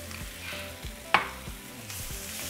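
Chile poblano strips hit a hot pan and fry with a steady sizzle, broken by a few scraping stirs and one sharp clatter near the middle, all without any voices.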